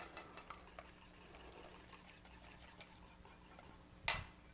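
Melted butter being whisked into six eggs in a bowl, a faint clinking and ticking of the whisk against the bowl with a few sharper taps at the start and one louder clatter near the end.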